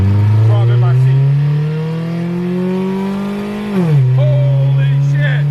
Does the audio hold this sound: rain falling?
no